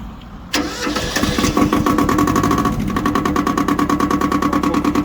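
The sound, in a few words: ISEKI TX1300 tractor diesel engine starting after glow plug warm-up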